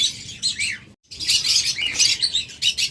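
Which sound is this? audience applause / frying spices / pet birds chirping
pet birds chirping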